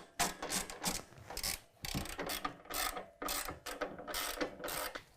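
A hand ratchet tightens flange nuts on a step bracket under a 2019 Ram 1500, sounding as a close, rapid clicking in several quick bursts separated by short pauses.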